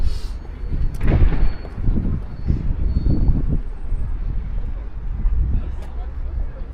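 Low, rumbling wind buffeting a microphone outdoors, steady and fairly loud throughout, with gusty surges.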